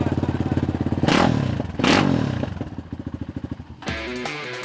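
Slam SMX250 Chinese motorcycle on a race track, its single engine revving with a pulsing rhythm, surging loudly in two strong bursts as it passes close by, then settling back to a steady throb.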